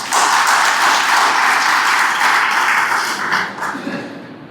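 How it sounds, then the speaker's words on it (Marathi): Loud, sustained applause from a convention crowd for the general secretary, a dense wash of clapping that holds steady for several seconds before easing slightly at the end. "महामंत्र्यांसाठी एकदा जोरदार टाळ्या झाल्या पाहिजे."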